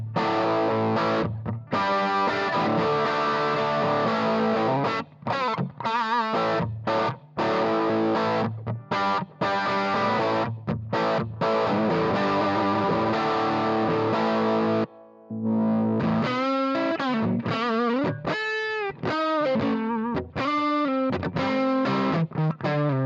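A Marshall Haze 15 valve amplifier's normal channel at about one-third volume, just starting to break up into a mildly distorted, saturated guitar tone with loud, continuous strummed chords and single-note phrases, then a brief pause and ringing bent notes.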